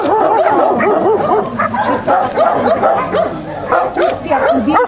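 Many dogs at a municipal animal shelter near Eboli bark and yip together, a dense, continuous chorus of overlapping yelps close by, with faint human voices mixed in.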